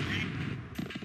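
A grenade explosion in the video game Oddworld: Abe's Exoddus gives a brief, booming blast with crackling bursts, clear and up front for about a second.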